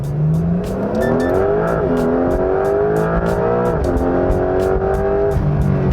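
A Porsche 911 GTS hybrid engine in Sport Plus and manual mode revs hard and climbs through rising pitch, shifting gears with brief dips, loud and close throughout.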